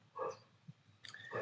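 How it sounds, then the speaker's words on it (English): A dog gives a few short barks and whimpers at moderate distance, brief separate bursts with quiet gaps between them, fairly faint and alone without speech. "So does the dog, as you can hear."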